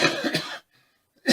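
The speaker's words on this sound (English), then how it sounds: "That cough is really, really getting to me." A single harsh cough from an older man, loud and close. It breaks up into a few rough bursts, followed by a brief pause and then a second cough starting.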